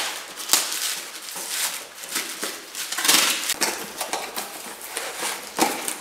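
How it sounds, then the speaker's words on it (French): Handling a parcel of car parts, external wastegates among them: cardboard crinkling, plastic wrap rustling and light knocks of metal parts, close and continuous with scattered louder crunches. "Allez, on attaque le déballage."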